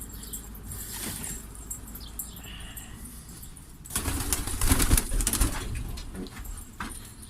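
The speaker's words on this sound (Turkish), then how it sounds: "Yem atayım kuşlar iner şimdi" Pigeons flutter down to eat scattered feed, with soft wingbeats and scuffling at first, then a burst of louder, close flapping as several birds land together, settling into quieter movement afterward.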